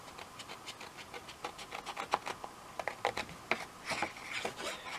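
Scissors snip out paper Power Rangers garland pieces in a quick, irregular series of sharp, close cuts and rustles, with no talking.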